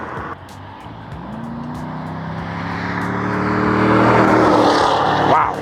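A 2010 Chevrolet Camaro SS in Summit White passes by, its V8 engine note rising from a distance to a loud, sustained roar with a clear pitch sweep as it approaches and goes past.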